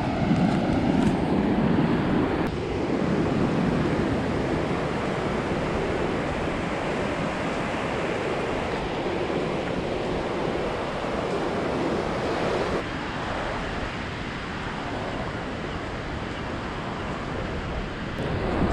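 Ocean waves wash steadily onto a quiet off-season beach at Gokarna, Karnataka, a continuous close roar of surf with some wind buffeting the microphone and no talk.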